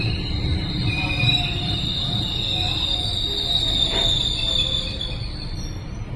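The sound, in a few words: GO Transit double-decker commuter train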